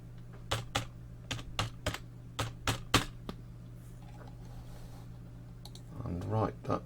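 Typing on a computer keyboard to enter a serial number, a series of distinct close key clicks in an uneven rhythm over a steady hum, with a brief burst of speech near the end.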